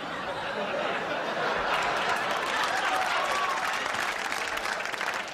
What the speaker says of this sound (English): Please hold your applause until we've all screwed up.